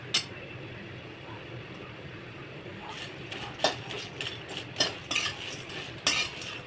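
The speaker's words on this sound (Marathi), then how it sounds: "स्लो गॅसवरती भाजायचे मसाले" Whole spices such as cardamom and cinnamon dry-roasting in a pan over low heat while being stirred with a utensil: a quiet background hiss, then a run of scraping, clinking stirs in the second half, close and without talk.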